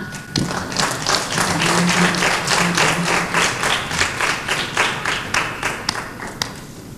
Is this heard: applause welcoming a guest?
yes